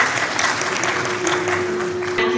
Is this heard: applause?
yes